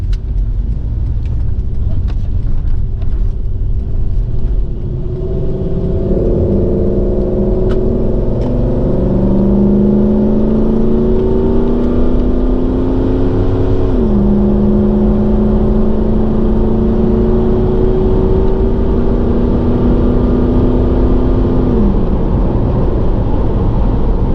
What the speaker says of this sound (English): Okay, now it's time for some highway driving.